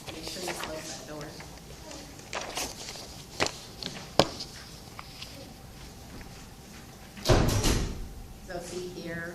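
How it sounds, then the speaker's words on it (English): A classroom door swings shut with a heavy thud partway through, preceded by scattered footsteps and knocks, while a lecturer keeps talking throughout. "make sure you close that door."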